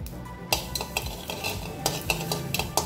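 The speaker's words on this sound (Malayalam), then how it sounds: "കടുക് നന്നായിട്ട് പൊട്ടി വരും." Mustard seeds crackle and sizzle in a hot pan, with scattered sharp pops and utensil scraping as they are stirred; close and fairly loud, no talking.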